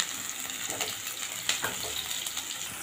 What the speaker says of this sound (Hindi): इसको भी अच्छी तरह सौते कर लेंगे।